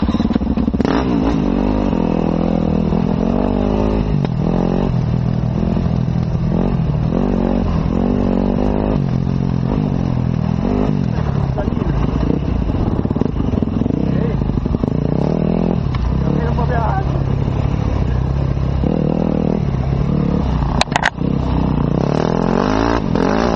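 An enduro motorcycle that smokes and leaks a little oil runs loud and close, its engine rumbling steadily and rising and falling in revs throughout with a brief clatter near the end.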